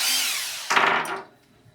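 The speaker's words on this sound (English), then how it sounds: "Then take a household drill" A household drill with a small bit bores into a vinyl window sash: a loud, close whirring burst that rises sharply, holds for about half a second, then winds down.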